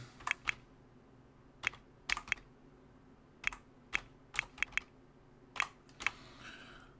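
Computer keyboard typing in scattered quick bursts of sharp clicks separated by pauses, fairly close, with a quiet background hum.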